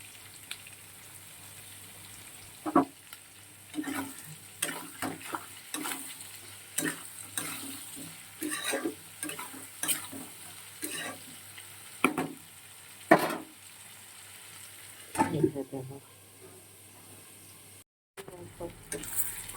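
Potatoes, onion, tomato and crushed garlic fry in salted oil, giving a steady low sizzle broken by sharp scraping and clacking strokes of a spatula stirring the pan, close and moderately loud, with a short pause near the end.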